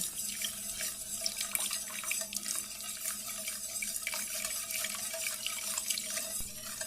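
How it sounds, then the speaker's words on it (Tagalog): Water poured into a pan of apple pie filling with melted butter and salt, a continuous close splashing trickle that runs steadily throughout without talk. "isunod na po natin ang half cup of water"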